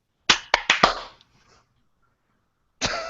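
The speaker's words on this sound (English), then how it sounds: "So once again, we're going to go 1, 2, 3, clap" A small group claps together four sharp times in quick succession, the claps echoing briefly before a quiet gap and then a further burst of sound near the end.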